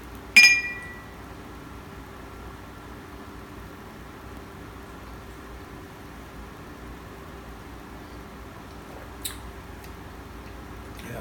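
Two wine glasses clink once in a toast, a bright, close ring that fades over a few seconds, followed much later by a faint tap. The rest is near silence.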